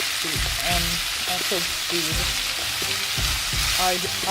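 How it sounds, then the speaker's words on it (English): Sweet and sour chicken frying over a high flame in a pan: a loud, steady sizzle with occasional stirring scrapes, and a voice faintly audible underneath. "I'm cooking on high"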